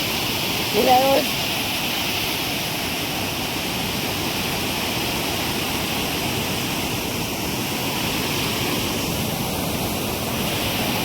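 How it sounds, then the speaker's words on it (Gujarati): A steady, roaring rush of water pours over the overflowing Khodiyar Dam, loud and unbroken, with a brief faint tone near the start. "ઉપરથી પાણી પડતું હોય"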